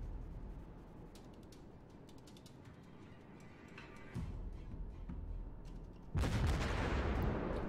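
Warship gun turrets firing in World of Warships, aboard the Tier 7 cruiser Yorck: a low mechanical whirring and clicking of rotating turrets, then a sudden loud, broad blast of gunfire near the end, with no voices.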